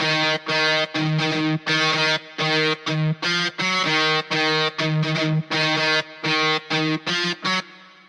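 An electric guitar with heavy distortion and effects, from a cover of a song, chugs out a choppy rhythm of short repeated chord stabs, loud and close, with brief gaps between hits.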